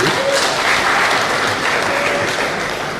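Audience applause fills a university registry in-house lecture hall at the University of Benin: a steady, dense wash of many hands clapping at once, holding even and fairly loud throughout before easing slightly at the end.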